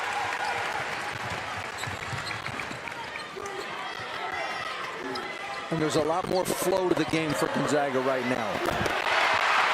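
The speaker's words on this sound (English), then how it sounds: "Crowd's going nuts." A sold-out college basketball arena crowd at the Kennel during Gonzaga against UC Irvine roars, the cheering swelling louder near the end, with a ball bouncing and a commentator talking over it.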